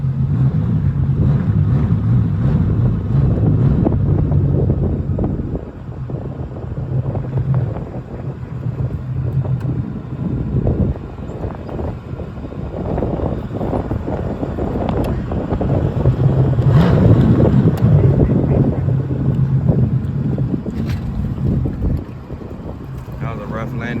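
A jet ski fitted with Flowmaster exhaust running over high waves, a continuous low engine drone mixed with heavy wind buffeting and splashing, with a voice talking over it at times.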